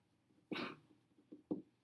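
One short, sharp sneeze bursts out of near silence, followed by a few faint, small sounds.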